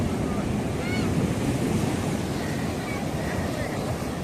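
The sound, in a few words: rough sea waves at Tajpur beach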